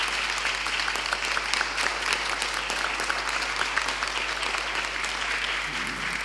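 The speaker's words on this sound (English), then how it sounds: "Please a round of applause for our panel." Room full of people applauding a panel at a conference on disinformation and democracy, continuous dense clapping at steady strength, close and full, tapering slightly at the very end.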